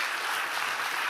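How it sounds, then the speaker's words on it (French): An audience applauds, a dense, even wash of many hands clapping throughout the brief moment with no talk over it. "Vous allez applaudir Lorena Martin, bien entendu."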